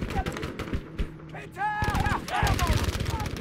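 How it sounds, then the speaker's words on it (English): Video game gunfire comes in rapid bursts from more than one direction, crackling shots interleaved with a player's talk and some sharp electronic tones. "I'm getting shot from both sides"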